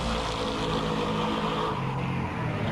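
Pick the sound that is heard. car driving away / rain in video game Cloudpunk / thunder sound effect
car driving away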